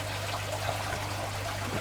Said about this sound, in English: I'm going to let these slowly drip.